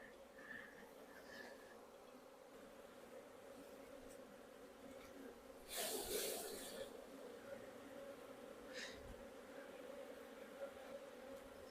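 Honey bees buzzing from an opened hive during an inspection: a faint, continuous drone of many insects with a brief louder rustle partway through and soft incidental knocks.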